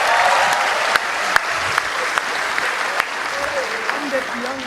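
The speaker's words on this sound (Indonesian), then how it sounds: "tepuk tangan buat kita semua" Applause rises from an audience at a youth political rally stage event, a steady wash of clapping with a few sharp louder claps, while a voice talks faintly underneath.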